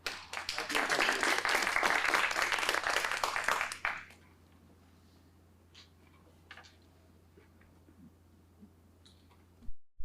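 An audience welcoming a lecturer to a talk on religion and secularism in Iran claps in dense, loud applause for about four seconds, which then stops abruptly, leaving a quiet room with a few faint rustles and knocks.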